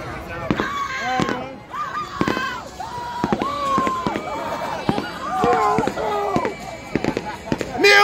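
Fireworks crack and pop repeatedly at a memorial gathering at Coney Island, sharp bangs scattered through a lively crowd with people talking and shouting over them.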